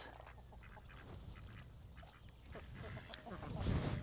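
Ducks rooting around in a muddy culvert on a Maine homestead, giving soft, fairly distant quacks scattered over a quiet outdoor background.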